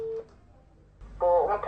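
Telephone dialing tones, a short tone at the start followed by a quick run of several bright touch-tone beeps near the end, fairly clear against a quiet background.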